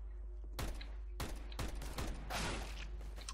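Several loud, sharp bursts of gunfire ring out in a CS:GO Arms Race match, cracking in quick succession over a low game background hum.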